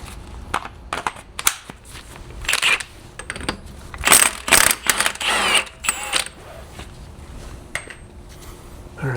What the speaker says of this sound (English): Going to loosen this axle nut again